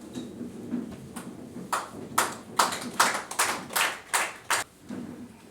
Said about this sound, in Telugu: Welcome with your great అప్లాట్. మీరందరూ ఒక్క సెకండ్ విత్ యువర్ క్లాప్స్.